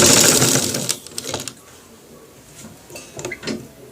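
A sewing machine stitches a bone pocket on a coat, opening with a dense mechanical whir for about a second, then giving way to short, scattered clicks and taps of handling the fabric.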